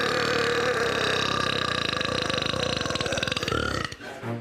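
One long, loud, continuous burp, record-breaking in scale, rumbling and gurgling for about four seconds before cutting off abruptly, with nothing else audible around it.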